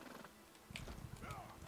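Horse hooves clopping at a gallop in Elder Scrolls Online, a quick steady rhythm of hoofbeats running through the whole short stretch, moderately close and fairly soft, with a brief whinny-like tone and background game sounds.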